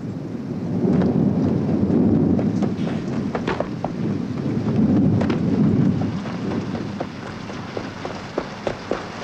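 A thunderstorm rumbles in two long, heavy swells of thunder over steady rain, with a few faint clicks near the end.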